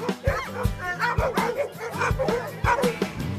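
Shepherds, pointers, labradors, staffies and other dogs bark and yip excitedly at a weekly canicross session in Obernai, a rapid, overlapping chorus of close barks with some whimpering, with human voices faintly mixed in.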